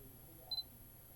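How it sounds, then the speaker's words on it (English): A Sony Cyber-shot DSC-330 compact camera gives a short double focus-confirmation beep, faint and close, over a quiet room hush. "you can hear that beep. That then means that it's in focus"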